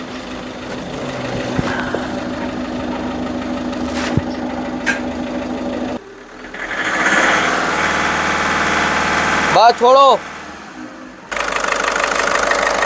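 A cold car engine with an abnormal engine noise, after a long hard start, idles with a rough, steady mechanical hum that shifts in tone partway through; a brief spoken phrase cuts in near the end.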